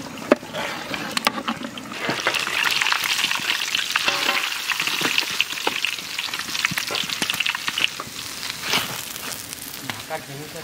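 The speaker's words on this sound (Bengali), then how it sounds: "পেঁয়াজ আমার সুন্দর করে ভাজা ভাজা হয়ে গেছে" Onions frying in hot mustard oil in a wok with bay leaves and whole cumin: a steady, close sizzle runs throughout, broken by frequent scraping and knocking as a spatula stirs the pan.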